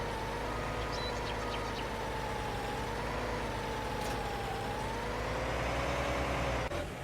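A tractor in Farming Simulator 19 reversing an articulated trailer, a steady engine drone with a faintly wavering tone that holds for several seconds before a brief clunk near the end.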